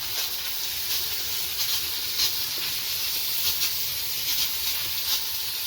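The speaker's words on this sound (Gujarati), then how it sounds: "તપેલું ધોઈ રહ્યા છીએ, થોડી હેલ્પ કરાવીએ છીએ।" Water runs while a cooking pot is washed at a village cattle shed, a steady close hissing rush with slight splashy fluctuations and no voices.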